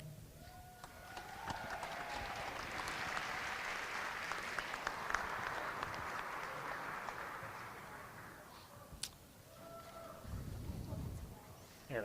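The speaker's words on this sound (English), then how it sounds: "a final round of applause there from everybody for the homecoming king and queen" A crowd in a gymnasium at a high school basketball game applauds the homecoming king and queen, a steady wash of clapping and cheering that swells and fades over several seconds, with a brief burst of noise near the end.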